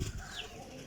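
Flying pigeons of a Pakistani breed coo faintly nearby, a soft low murmur with a brief higher call, set against quiet background hiss and no speech.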